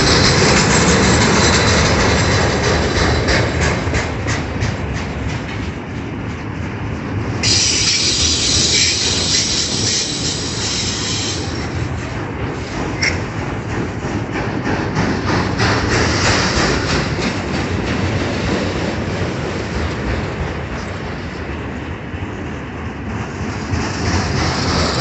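A southbound CSX mixed freight train passes close and loud for a long, steady stretch, wheels rumbling and clacking over the rails with bursts of metallic squeal.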